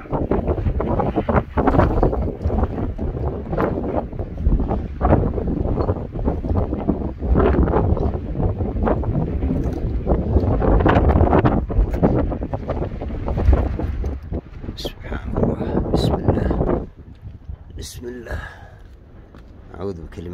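Strong outdoor wind buffets the microphone near an old Asir-style stone building. The roar is loud and gusting for most of the time, drops to a quieter rush near the end, and voices come through faintly at moments.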